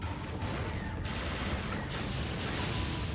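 Gunfire in a video game, a dense continuous burst of rapid shots and rumbling blasts, loud and sustained throughout.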